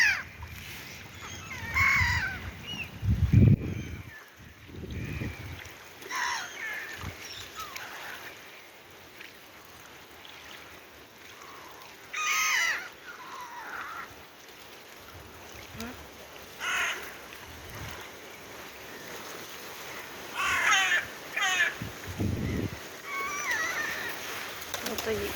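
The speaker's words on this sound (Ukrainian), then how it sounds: "качечки між собою ще й б'ються. Чого кричите?" Ducks quack and squawk in scattered bursts, some harsh and overlapping as if quarrelling, with a person speaking intermittently nearby.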